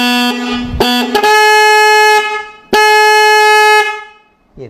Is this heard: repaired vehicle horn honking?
yes